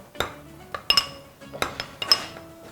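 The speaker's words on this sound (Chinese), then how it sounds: "好，给它搅拌均匀。" A spoon clinks and scrapes against a heat-resistant glass bowl while stirring a seasoning sauce of light soy sauce, sesame oil, steamed fish soy sauce, oyster sauce, salt and sugar; sharp irregular taps, close and alone.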